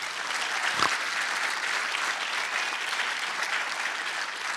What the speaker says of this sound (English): Please give another round of applause to Evan Upton.